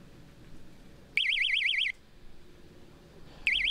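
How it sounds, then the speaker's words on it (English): Electronic bite alarm on a catfishing rod set up for bank fishing, sounding in two loud warbling bursts, the first lasting under a second and the second starting just at the end, over quiet outdoor background. "when the line goes tight, the hook gets pulled out, and then this really obnoxious alarm goes off"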